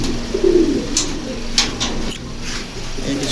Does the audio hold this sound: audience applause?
no